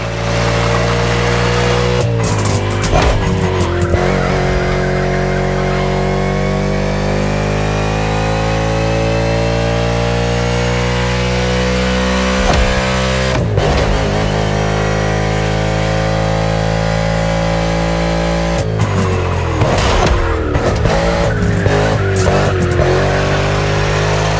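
A NASCAR stock car in the racing game The Crew Motorfest roars loudly and continuously, its engine pitch climbing and falling through gear changes, with repeated bursts of tire skid and squeal.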